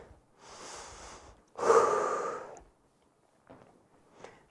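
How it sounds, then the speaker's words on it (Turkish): Deep exercise breathing, drawing in through the nose and out through the mouth, heard as two close, airy breaths with the second stronger, then fainter breaths trailing off. "Derin nefes al, ver."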